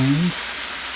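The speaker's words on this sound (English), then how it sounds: "what we're going to do is stir the onions in the seasoning like so." Onions stirred into seasoning in a hot pan for chicken tortilla soup, a steady close sizzle with a short low voiced sound at the start before the frying hiss carries on alone.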